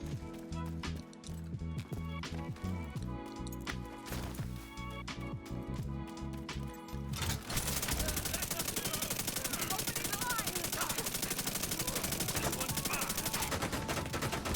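SMG gunfire in the video game The Division 2, rapid sustained bursts of automatic fire with a dense continuous rattle, loud and close, music-like tones earlier before a long unbroken stream of shots.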